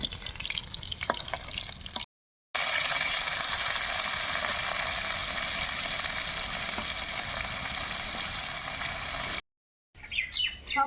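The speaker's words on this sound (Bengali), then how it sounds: "আর বাকিগুলো এবার ভেজে নেব।" Paneer pieces frying in hot oil in a pan, a steady close sizzle with soft stirring, broken by two short silent gaps, and no talk.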